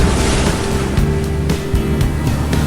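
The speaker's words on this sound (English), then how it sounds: "destructive waves crash into the bottom of the rock face" Loud ocean surf breaks against tough basalt cliffs on a rocky coast, a continuous roaring wash with repeated crashing surges and spray throughout.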